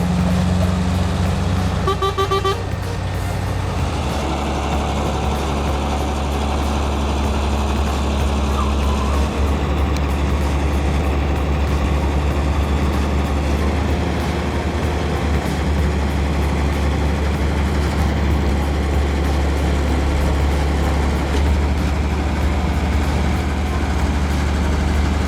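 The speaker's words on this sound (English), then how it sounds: "Engines roar thunderously as they drag the truck forward, each step heavy and labored." Heavy truck and bulldozer engines roar continuously while bulldozers pull and push a logging truck up a steep slope through thick mud, a loud, steady low rumble with labored rises and metallic clanks.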